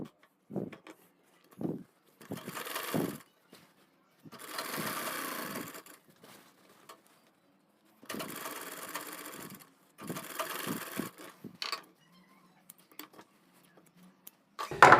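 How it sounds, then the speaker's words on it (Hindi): A sewing machine stitches a kurti collar in short bursts, each run of rapid needle clatter separated by pauses, close and clear with no talking. "बिल्कुल सेंटर में रख कर आपको यहाँ पे सिलाई लगानी"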